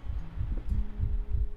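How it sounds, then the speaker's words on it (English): A heartbeat in the Layers of Fear video game, with deep, regular thumps about four times in under two seconds over a low hum, close and prominent. "look at this heartbeat."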